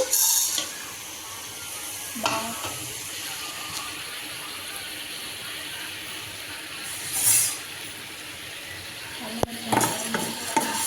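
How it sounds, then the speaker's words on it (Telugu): Coriander seeds and whole spices are dry-roasted in a pan, with a soft continuous sizzle and scraping stirs, plus a few louder clinks of a spoon against the pan. "ఇప్పుడైతే వీటన్నిటిని మనము లైట్గా అయితే వేయించుకోవాలి"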